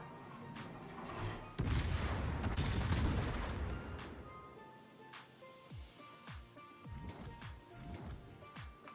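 Warship guns in a World of Warships naval battle, a heavy burst of booming fire followed by scattered sharp shots and explosions trailing off, loud then thinning, without voices.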